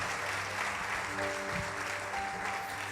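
A church congregation applauds during a family worship service, producing a steady wash of clapping at moderate distance with faint voices and a sustained tone underneath.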